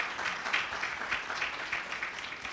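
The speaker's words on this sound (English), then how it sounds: "Can we have a round of applause for all our Christian sisters who freely put on the hijab today as a sign of respect?" An audience at the Islamic Center of America applauds, a dense wash of many hands clapping at once, steady and fairly distant, with no one speaking over it.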